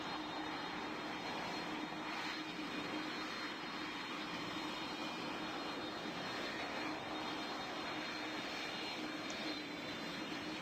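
Boeing 747 jet engines in a flight video game drone with a loud, constant roar and high whine, steady and unbroken throughout with no talking.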